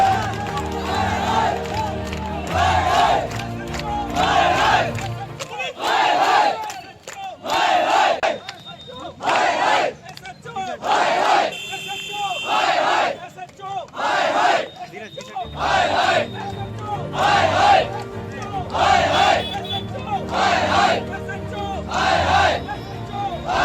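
A loud, close protest crowd in Punhana city chants rhythmic slogans against a police station officer, with short shouted bursts repeating in a steady cadence and voices overlapping.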